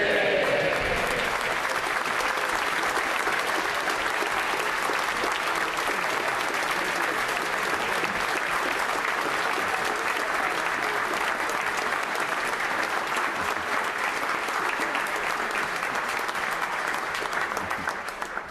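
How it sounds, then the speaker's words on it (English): Members fill the UK House of Commons chamber with prolonged clapping during Prime Minister's Questions, a loud, dense wall of applause that holds steady for well over fifteen seconds before tapering at the end. "And that's the only reason I allow clapping."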